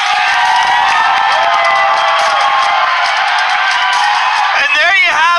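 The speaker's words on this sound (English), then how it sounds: "the crowd welcoming Alicia" A large arena crowd at a Command and Conquer: Rivals championship event cheers and whoops loudly and continuously as a player named Alicia is welcomed to the stage, with a dense roar of voices throughout.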